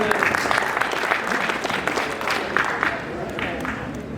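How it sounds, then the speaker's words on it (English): An evening audience at a Marin County stakeholder presentation claps together in a sustained, fairly loud round of applause that tapers slightly toward the end. "Please give yourselves a round of applause just for being here"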